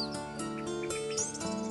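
An orange-headed thrush sings from a cage among other birds in short, clear, whistled phrases and chirps, close and fairly soft.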